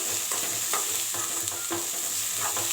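Steady sizzling of spices and pepper frying in a hot pan, with a constant hiss and occasional scraping stirs, no voices.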